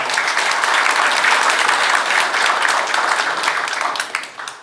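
An audience at a Korean policy forum on fire-safety design gives sustained applause to welcome a lawmaker to the podium, a dense, even roar of many hands clapping that eases off at the end.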